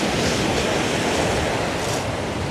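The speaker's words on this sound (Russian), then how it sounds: "Как звучит море." Sea waves wash steadily over a stony beach in Anapa, a continuous broad roar of surf with no distinct breaks, close and fairly loud throughout.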